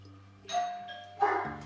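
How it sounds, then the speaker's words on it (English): A doorbell chimes twice over a low steady hum, each two-tone ding-dong ringing out clearly in a quiet indoor room; no barking stands out. "When I come over to ring the doorbell or whatever else, Roman just goes nuts."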